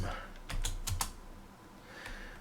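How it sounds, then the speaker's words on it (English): Several quick keystrokes on a Commodore 64 keyboard, a short cluster of crisp clicks followed by a lone press, close and clear with no talk. "I'll type new, load, random,"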